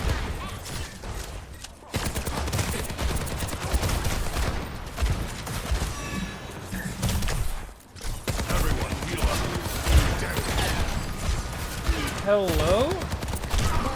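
Video game gunfire in a first-person shooter, rapid automatic bursts and scattered shots running through most of the stretch, fairly loud, with a person talking over it.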